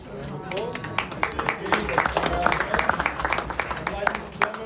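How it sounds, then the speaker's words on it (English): An audience claps after a Black Forest cherry cake demonstration held in the Black Forest, a scattered round of hand claps with voices chattering through it. "Round of applause"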